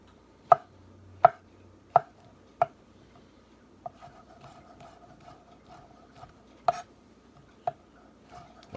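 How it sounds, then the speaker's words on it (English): Shiitake mushrooms are chopped with a knife on a board, giving sharp, separate thunks at an uneven pace with short gaps. The chopping is close and clear, with no talking. "So we'll chop them up first."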